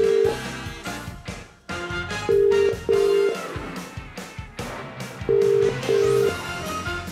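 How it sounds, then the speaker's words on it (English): Telephone keypad tones beep in short bursts, some in quick pairs, as a number is dialled live on a TV phone-in game show, over studio background sound. "Let's dial the first number."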